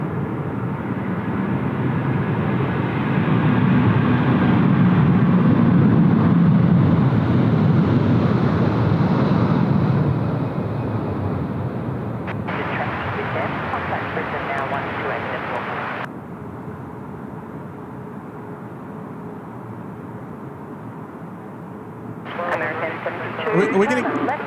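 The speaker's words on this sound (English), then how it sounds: "Vietjet rolling now. Runway 16 right, bound for Ho Chi Minh." A Vietjet airliner bound for Ho Chi Minh roars through its takeoff roll on runway 16 right, a broad jet rumble swelling and then fading into the distance, while onlookers chat over it.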